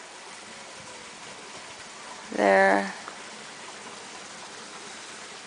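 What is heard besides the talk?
creek flowing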